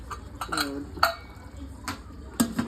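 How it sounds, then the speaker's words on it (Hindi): Metal clanks and clinks of cookware, a few sharp knocks spaced apart as a lid is set and pressed onto a pressure cooker of chicken pulao, close by. "इसका मैं अभी ढक्कन लगा दूँगी"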